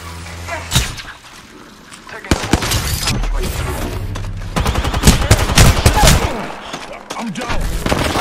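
Gunfire in Apex Legends: rapid automatic bursts and sharp single shots crackle loudly in clusters. Impacts and clatter mix in, and a voice speaks over the fight.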